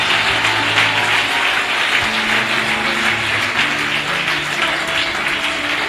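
A church congregation applauding in praise, a steady wash of many hands clapping together, sustained and fairly loud throughout with no break.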